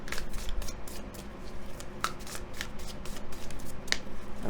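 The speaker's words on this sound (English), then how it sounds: "Let me get these really shuffled for you." A deck of tarot-style oracle cards being shuffled by hand during a card reading, a steady dense riffling rustle with occasional sharper snaps, close and continuous, no talking.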